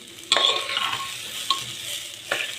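Pulao stirred in a pot over a medium gas flame: a few scraping strokes with soft metallic ticks against a faint cooking hiss, close and quiet, with no talking.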